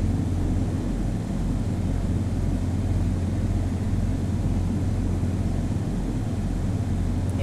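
An airplane on final approach in the Flight Sim World video game gives a steady, loud engine drone with a deep rumble, constant throughout with no voices.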